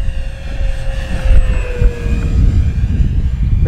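An FMS P-47 Razorback RC model airplane makes a low pass down a runway at about half throttle, its electric motor whining in a steady tone that slowly falls in pitch as it passes close by.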